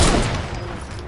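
A single loud sniper rifle shot booms in a video game, its blast decaying over about a second with no talking.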